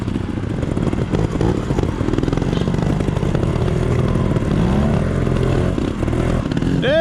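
A trials motorcycle being ridden and throttled outdoors, its engine revving and labouring loudly and continuously with rising and falling throttle bursts and mechanical clatter, close by.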